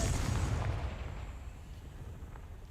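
A Confringo fire spell blast from a Harry Potter video game hits with a loud booming burst at the start, its rumbling roar then fading out over a couple of seconds, with no voices over it.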